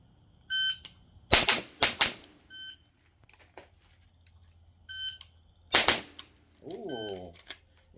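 Rapid .22 rifle shots from a conversion kit during a timed range drill, fired in two loud sharp bursts of a few cracks each, with brief electronic timer beeps and quiet handling noise in between.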